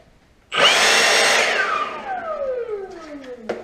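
A power blower starts abruptly and blasts dirt off a swim mat, a loud close roar that holds steady before its pitch slowly falls away as the motor spins down.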